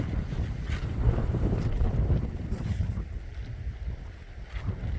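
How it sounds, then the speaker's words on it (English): Breezy wind blows over a grassy knoll campsite in the woods, a loud, steady rush that buffets the microphone and eases slightly toward the end, with no one talking. "A little breezy though."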